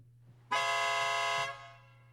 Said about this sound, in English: Aftermarket horn.